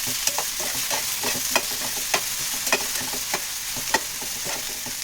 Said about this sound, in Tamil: இது எல்லாமே கொஞ்சம் வதங்கணும்.